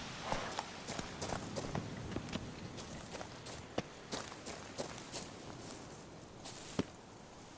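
Roach, Geralt's horse in The Witcher 3, clip-clops along at a walk, a steady rhythm of distinct hoofbeats close by with a few sharper strikes standing out.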